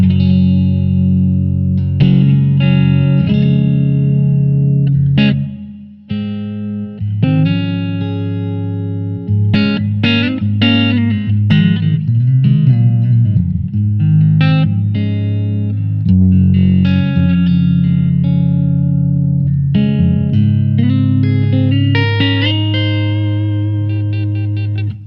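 Electric guitar played through a Blackstar ID:Core V4 amp on a clean warm setting with reverb, strummed chords and single-note lines ringing steadily and loud throughout, with a brief drop in level near the middle.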